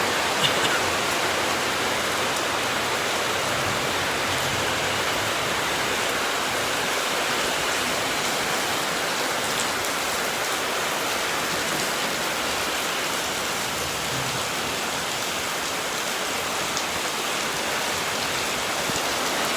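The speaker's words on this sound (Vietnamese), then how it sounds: "Hôm nay trời mưa rất là to" Heavy rain pours down as a steady, dense, loud hiss for the whole stretch, with no pauses and no voices.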